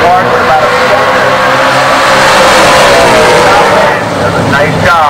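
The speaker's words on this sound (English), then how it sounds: "Both races staged up, tree comes down, another green light drag race." Drag race cars launching off the line at a green light at a class racing event, a loud sustained roar of revving engines that stays heavy throughout, with an announcer talking over it.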